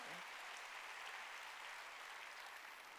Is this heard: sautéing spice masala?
no